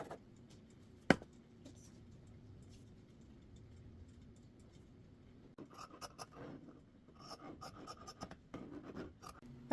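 Quiet scratchy strokes of a pencil on fabric, soft and close, with a sharp tap early on and busier rustling toward the end.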